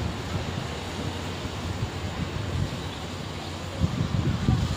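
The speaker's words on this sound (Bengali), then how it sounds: "রিয়েলি সমুদ্রের ফ্রেশ বাতাস, অন্যরকম ফিলিংস।" Steady sea wind buffets the microphone on Port Dickson beach in Malaysia, a continuous low rumble with broadband hiss that swells slightly near the end, with no voices heard.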